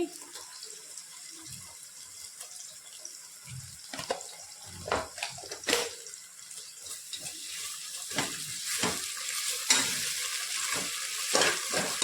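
Ginger garlic paste sautéing with onions for biryani in a pan, a low sizzle broken by irregular spatula scrapes and clatters, with faint running water and brief murmurs of voice in the background.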